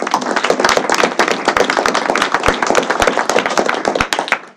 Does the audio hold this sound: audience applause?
yes